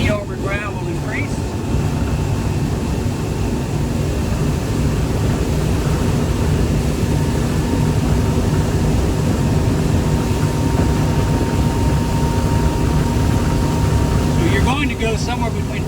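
A 2020 Sea Ray Sundancer 320 boat running its engine at wide open throttle gives a steady, loud roar with broad rushing noise from wind and water that holds through the whole stretch.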